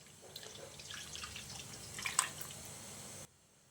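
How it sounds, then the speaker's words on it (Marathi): Water splashes and drips into a bowl of flour for a few seconds, a soft close liquid trickle with small drops, then it stops abruptly. "तर आता या पिठामध्ये आपण हे पीठ बुडेल एवढं पाणी घालून घेणार आहोत"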